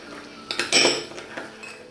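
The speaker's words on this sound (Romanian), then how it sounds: "Amestecăm gălbenușurile cu sarea." Egg yolks being mixed with salt, vanilla and sugar in a bowl, a utensil clinking and scraping against the dish in a few short strokes, the loudest near the middle, with no talk.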